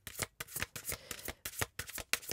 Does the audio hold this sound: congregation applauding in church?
no